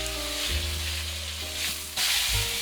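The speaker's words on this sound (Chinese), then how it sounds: "然后再煎1分钟左右。" Bream fish frying in a hot pan with oil and ginger slices gives a steady, loud broadband sizzle throughout, with a few soft clanks and bumps of the pan mixed in and low tonal hum underneath.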